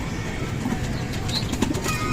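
Pigeons gather on a rooftop amid steady outdoor background noise, with faint low coos and brief bursts of wing flapping at moderate distance.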